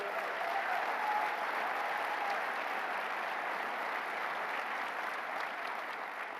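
An audience at a university hall in Western New York claps steadily for university leaders during a State of the State address, a full and even wash of applause with no talking.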